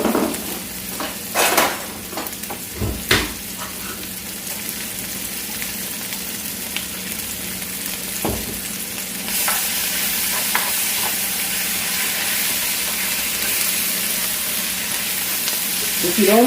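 Food frying with minced garlic and parsley in a pan, with a steady loud sizzle and a few scraping stirs and utensil knocks early on, close up and with no talk.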